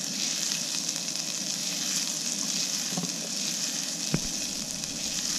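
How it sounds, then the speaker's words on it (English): Steak sizzling hard in a pan with shallots and peppercorns for pepper steak, a dense, steady frying hiss that runs close and loud the whole way, with a couple of faint stirring knocks. "we're just going to work the steak around, using it to stir the shallots and the peppercorns"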